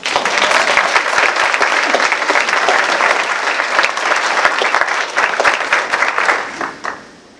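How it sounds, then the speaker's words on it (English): A crowd at a leadership event claps loudly and continuously for several seconds, some sharp individual claps standing out, before the applause quickly fades to quiet at the end. "So clap it up for Jenny"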